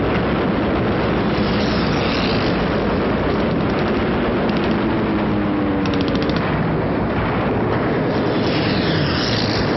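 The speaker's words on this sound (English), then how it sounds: "Flying P-40s, P-39s, P-47s, and P-51 type aircraft" World War II fighter aircraft such as P-40s, P-39s, P-47s and P-51s roar past, a loud, dense, continuous engine drone with rumbling, crackling texture and faint rising and falling tones, no voices.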